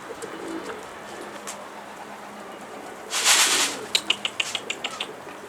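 Mardin pigeons flutter and call close by, with a burst of wing noise followed by a quick series of sharp, evenly spaced clicks.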